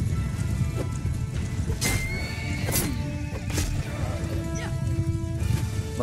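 Several horses in Mount & Blade 2 Bannerlord whinny repeatedly amid a dense rumble of hooves and battle noise, neighs rising and falling one after another over a constant loud background.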